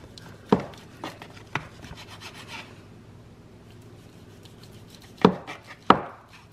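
A knife cuts 1-inch slices of an ALDI Park Street Deli broccoli-stuffed chicken on a cutting board. Several sharp, separate cuts fall in two bunches with a quiet pause between them, and no one speaks.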